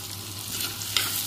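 Tomatoes fry in a pan with ginger and garlic, a short, steady sizzle with a few faint crackles, heard up close without talk.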